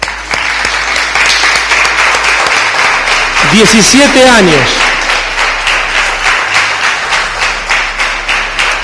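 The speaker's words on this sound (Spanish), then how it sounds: "¿Cuánto le da un aplauso al Señor?" A church congregation claps loudly in celebration of the church's 17th anniversary, dense steady applause filling the whole stretch, with someone speaking over it and a brief burst of voices cheering in the middle.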